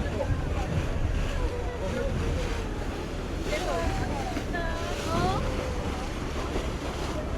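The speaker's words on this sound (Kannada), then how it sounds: "ನೋಡಿ ಬೋಟ್ ತಿರುಗಿಸ್ತಾ ಇದ್ದಾರೆ ಕ್ಯಾಪ್ಟನ್ನು" Tour boat turning near a waterfall at Milford Sound in the rain, with a steady wash of water and engine noise, wind gusting against the microphone and people talking over it.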